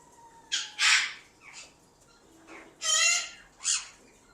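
Several short, harsh squawking bird calls in separate bursts, fairly close and with quiet gaps between, from spotted doves at a Sunday bird market in Multan.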